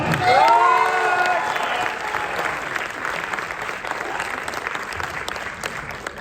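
Student audience at an IIIT Allahabad event breaking into loud applause and cheering, opening with a shouted vocal cheer over the clapping, then a sustained dense roar of hands that gradually eases.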